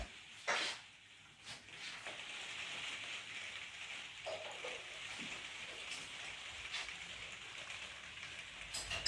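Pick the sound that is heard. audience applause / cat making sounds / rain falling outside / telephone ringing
rain falling outside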